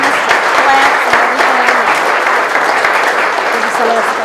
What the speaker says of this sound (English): Please give Arturo a wonderful applause.